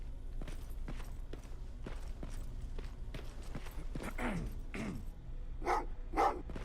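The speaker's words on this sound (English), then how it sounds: "Well, what's with the dogs?" Dogs in a Terminator video game barking in a sequence of sharp yaps, a few louder barks near the end, over a steady low background hum.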